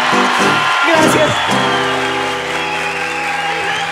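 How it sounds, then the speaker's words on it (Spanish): An audience claps loudly and continuously, a dense wash of applause with a voice and sustained musical tones over it. "un aplauso fuerte para las dos"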